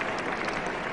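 Cricket crowd at a 1980 England v West Indies Test match applauding a boundary, a brief burst of dense clapping and cheering heard at steady loudness.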